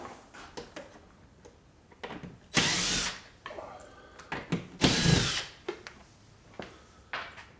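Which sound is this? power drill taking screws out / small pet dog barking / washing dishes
power drill taking screws out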